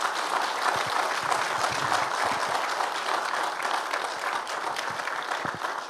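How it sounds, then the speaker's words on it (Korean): Steady congregational applause fills a church during a dedication and founding service for a newly completed church building, a dense even wash of clapping that holds at a constant level throughout with no talk over it. "하나님께 영광의 박수"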